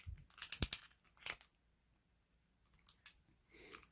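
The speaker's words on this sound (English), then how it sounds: "we've got just a simple ball socket there. So let's pop this guy off." A plastic action figure's head pops off its ball-socket neck joint in a few sharp clicks and snaps, followed by fainter handling clicks in a quiet room.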